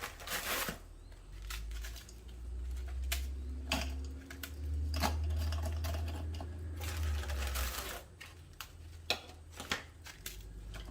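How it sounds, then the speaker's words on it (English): A food processor chops graham crackers with a steady low motor hum lasting about seven seconds. Scattered clicks and rattles from the crackers sound over the hum before it winds down. "I have my food processor here to chop these up"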